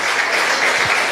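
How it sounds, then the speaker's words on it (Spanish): A church congregation breaks into loud, dense applause, a continuous wash of many hands clapping together up close. "Dale un fuerte aplauso a Perú"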